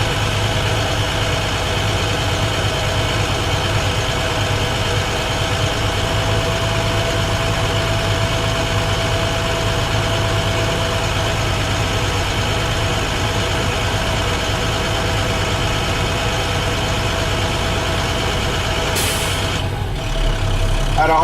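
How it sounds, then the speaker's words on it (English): A truck's air brake system builds pressure to about 120 psi with a steady engine idle throughout, then the air dryer purges in a sharp, loud hiss near the end. "At 120, I heard my truck sneeze."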